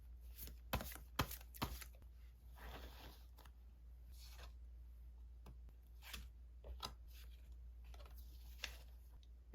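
Tarot cards are shuffled and drawn in soft, quiet flutters and slaps. Scattered papery snaps and slides sound over a low steady hum.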